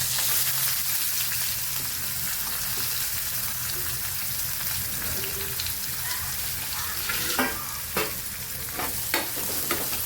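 Onion frying in hot oil with cumin, mustard seeds and chilli for Maharashtrian kande pohe, a steady loud sizzle with stirring and a few scraping clinks of a spoon toward the end.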